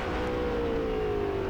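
A McLaren M6B race car at speed on Laguna Seca, its engine holding a loud, steady drone with a slowly falling tone, close and continuous with no talk.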